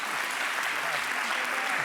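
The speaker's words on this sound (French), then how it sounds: "Est-ce que je dois considérer les applaudissements comme des encouragements?" Studio audience applause on a French-language television talk show, a steady dense wash of clapping heard at moderate level for a couple of seconds with no voice over it.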